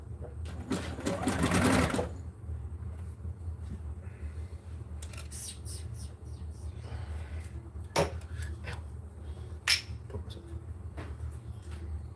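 A sewing machine stitches a wrestling singlet in a short, close, whirring burst, then stops, leaving a quiet room with scattered clicks and light knocks.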